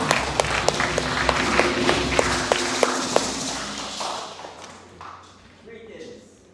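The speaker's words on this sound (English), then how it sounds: "Let's give them a round of applause." Applause from a crowd at a drumming circle event, with sharp claps standing out, fading away after a few seconds into quieter background sounds.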